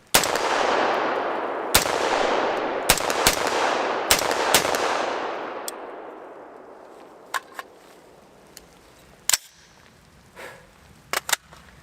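Several sharp, loud rifle shots from a Springfield Saint Edge ATC fitted with a three-chamber muzzle brake, each crack trailing a long outdoor decay, spaced irregularly and fading to fainter distant reports near the end.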